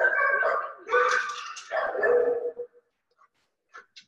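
A shelter dog in a kennel gives loud, close yips and whimpering barks in a few quick bursts, then falls almost silent with only faint, brief noises after.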